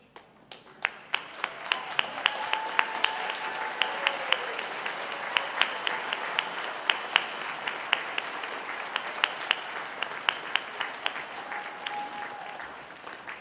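A graduation audience stands and applauds to thank the families, sharp individual claps crackling over a sustained wash of clapping that builds quickly and carries steadily through a large hall, with faint voices beneath.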